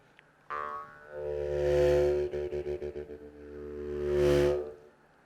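A twanging kubyz (Bashkir jaw harp) with a droning hum swells into a breathy, whooshing tone as the player inhales after striking the reed, pulses briefly in a fluttering rhythm, then swells again, imitating gusting wind.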